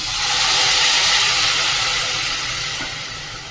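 Ground spinach hits a hot pan for a Marathi spinach gravy and sets off a loud, broad hissing sizzle that swells quickly, then slowly fades over a few seconds, with no talking.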